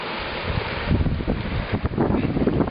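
Strong cold wind buffeting the microphone near the Sukil waterfalls, with low rumbling gusts that rise and fall, near and loud, with faint water in the background.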